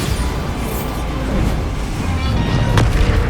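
A Bombarda blast spell from the Hogwarts Legacy video game, heard as dense, rumbling game combat with a sharp burst near the end over a steady, loud background.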